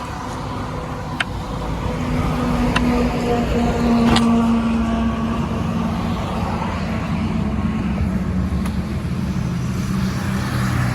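A Hero Electric Optima electric scooter is ridden after a motor repair. It gives a steady low hum and whine with road and wind noise, and a few sharp clicks stand out along the way.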